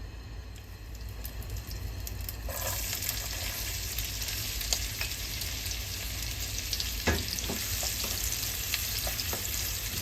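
Carrot and onion stir-frying in olive oil, a loud continuous sizzle that jumps in intensity partway through, with scattered scraping stirs and clicks close by.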